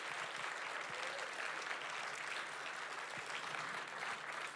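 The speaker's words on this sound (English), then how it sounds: "Can we give them a big round of applause, please?" An audience at a community gathering on immigrant justice claps steadily, a dense, continuous wash of applause from a crowd heard at moderate distance without talking.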